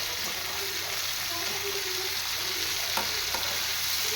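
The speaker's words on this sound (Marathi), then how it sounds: "हे मस्त काजू असे छान बघा तेलावर परतवून घेतले" Cashews sautéing in hot oil for kaju batata bhaji, a steady close sizzle with light stirring scrapes and a couple of brief utensil taps.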